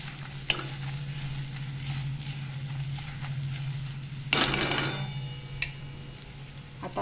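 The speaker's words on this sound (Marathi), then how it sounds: "चांगला आपल्याला परतून घ्यायचं आहे तेलामध्ये आलं लसूण पेस्ट." Ginger garlic paste sautés in oil for kaju paneer masala, a soft continuous sizzle under a steady low hum, with a few sharp clinks and a louder burst of frying partway through, close and without talk.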